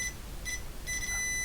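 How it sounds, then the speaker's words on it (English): A multimeter in continuity mode beeps as sharp probes touch during electronics repair on an HP 9120A, giving three short high-pitched tones with brief gaps, the last one longer, loud and close over faint background hiss. "hopefully you can hear the meter beeping"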